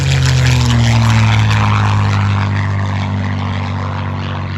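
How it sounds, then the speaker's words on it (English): A Supermarine Spitfire flies past at an airshow in Geneseo in 2024, its loud propeller-engine drone steady throughout and slowly shifting in pitch as it passes, with no voices. "Here comes the Spitfire."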